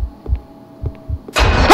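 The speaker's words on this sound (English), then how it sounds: "My heartbeat hasn't stopped." Slow heartbeat in the horror video game Dark Domination, a steady lub-dub throb repeating about every half second over a low hum, ending in a sudden loud burst of harsh noise.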